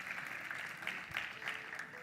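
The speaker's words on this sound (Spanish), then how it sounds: "Un aplauso para ustedes." Church congregation clapping after a sermon, a steady even patter of many hands at a moderate distance, with faint voices mixed in.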